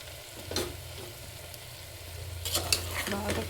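Chicken pieces frying with softened onions in a pan for a masala chicken curry, a steady low sizzle broken by scraping stirs early on and a cluster of louder stirring clatters near the end, with no talk.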